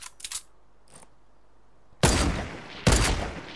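Gunfire in the video game Fortnite: two loud, sharp bursts close together, with a few fainter shots earlier.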